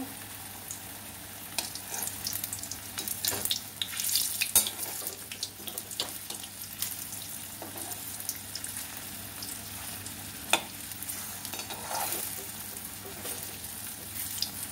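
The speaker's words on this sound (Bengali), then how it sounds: "খেয়াল রেখে ভাজতে হবে যেন কোনো কোপ্তা পুড়ে না যায়" Jackfruit koftas deep-frying in hot oil, a steady close crackling sizzle with scattered bubbling pops and occasional clinks throughout, no one talking.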